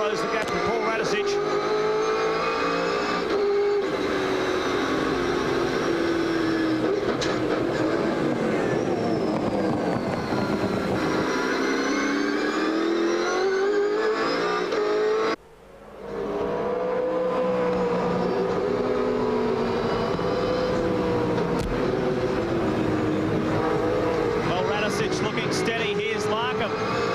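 Onboard a Mitre 10 Ford V8 Supercar, the engine roars continuously, rising and falling through gear changes with a brief lift off the throttle midway, while a commentator talks over it.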